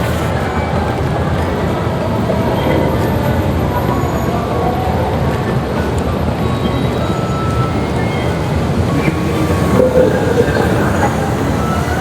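An MRT metro train rumbles past close by, a loud continuous roar of wheels on rail with faint clatter, heard alone for the whole stretch.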